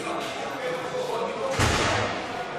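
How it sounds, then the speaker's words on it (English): A heavy metal prison cell door in a UK prison slams shut with a single loud bang partway through, over a noisy, echoing background. "That noise, the banging door, the alarm bells."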